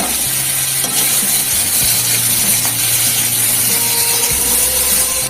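Boiled potatoes coated in salt and turmeric frying in hot oil, giving a loud, steady sizzle with occasional stirring scrapes throughout.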